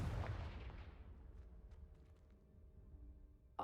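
A Confringo blast spell in the Hogwarts Legacy video game, a loud booming burst at the start followed by a fading rumbling decay and scattered crackles over a few seconds.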